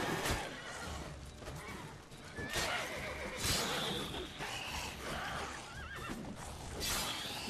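A horse neighs and whinnies repeatedly in the video game The Witcher 3 over a dense mix of game effects, clashing sounds and background music, with a voice talking at times.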